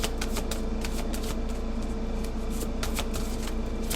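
A deck of playing cards is riffled and shuffled at close range in a quick, steady run of crisp fluttering bursts, with no talking.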